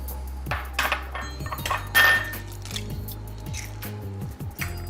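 Six eggs dropped into a bowl for a corned beef, cabbage and potato quiche, with wet plops, squishy drips and light clinks of the dish, close and fairly quiet.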